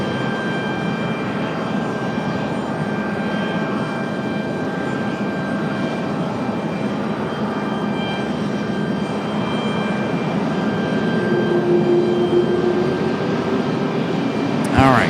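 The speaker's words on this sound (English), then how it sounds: "Southwest 2163, Raleigh Tower, runway 23 left, clear to land." Southwest airliner on approach to land on runway 23 left at Raleigh-Durham, a steady broad engine roar holding throughout at moderate distance, swelling slightly near the end, with a faint tonal whine above.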